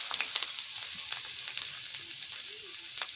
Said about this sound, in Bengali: তেলটা গরম হয়ে গেলে আমরা প্রথমে রসুন কোচাটা দিয়ে দেব।